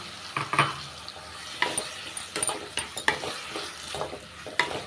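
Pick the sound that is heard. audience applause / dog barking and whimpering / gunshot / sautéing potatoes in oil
sautéing potatoes in oil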